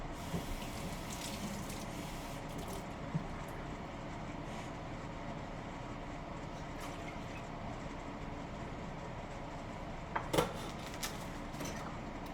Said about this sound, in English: Then I'll put in our 1/2 cup of water.